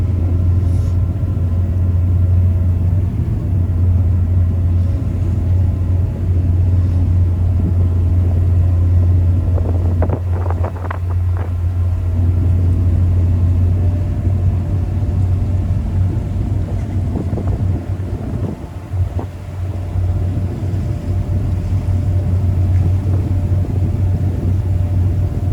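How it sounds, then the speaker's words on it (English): A 2020 Sundancer 320 boat spins a full 360 in place under joystick control, giving a steady low engine rumble with wind buffeting the microphone and a few brief louder swells partway through. "I'm still in one spot spinning the boat."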